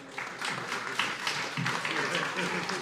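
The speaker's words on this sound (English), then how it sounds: "Let's give these guys a round of applause" Audience applause for the panelists at Minds Fest 2023, a steady wash of clapping from a crowd that continues throughout, with a voice talking over it.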